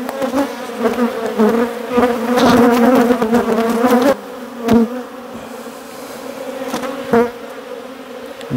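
Honey bees buzz steadily from an opened, smaller hive colony on a dull day, a dense close-up drone that grows louder midway, then thins after a few seconds with brief sharp buzzes of single bees passing near.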